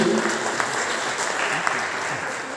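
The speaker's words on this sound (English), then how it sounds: "one round of applause for these wonderful speakers" Conference audience applauding the speakers at an event in Bucharest, a steady wash of clapping at moderate level with faint voices mixed underneath.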